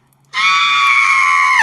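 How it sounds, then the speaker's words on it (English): A sudden loud, drawn-out scream resembling a woman's cry heard from a distance in a silent forest with no wildlife, bursting out of near silence and holding steady. "it sounds like a woman screaming from that distance where the orange glow is"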